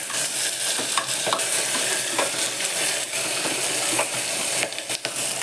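Curry leaves and chopped coriander sauté in hot oil in a pan while being stirred for an ivy gourd rice dish, a steady close sizzle with scraping stirs and light clicks throughout, no talking.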